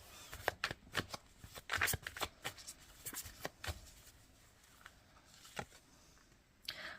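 Tarot cards are shuffled and drawn, quiet close riffling and sharp card slaps in irregular bursts, then sparser flicks, with no talking.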